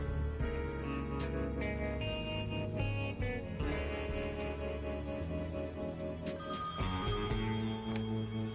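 Telephone ringing in the video game Thimbleweed Park, a repeated electronic ring over layered game music, moderately quiet.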